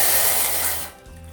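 Vegetable cooking water poured back into a pot for veg fried rice, a broad splashing pour that stops partway, leaving a quieter low rumble.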